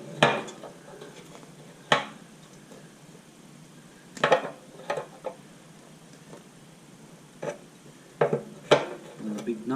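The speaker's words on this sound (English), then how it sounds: "22mm spanner." A 22mm spanner working the fuel tap nut on a Honda CB125E motorcycle, giving a handful of sharp, close metallic clinks and knocks spaced irregularly over quiet background.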